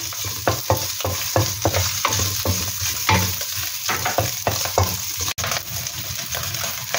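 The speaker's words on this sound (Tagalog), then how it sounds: "Ilagay na po natin ang ating karne para masangkot siya." Pork and garlic sauté in a hot pan for ginisang Baguio beans, with a loud, continuous sizzle. Rhythmic stirring strokes scrape through it again and again, and one brief clank comes near the end.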